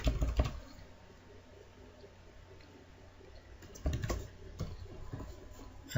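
Quiet typing on a computer keyboard gives a soft patter of key clicks, with a denser burst at the start and another near the end.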